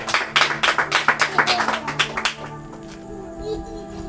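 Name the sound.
church congregation applauding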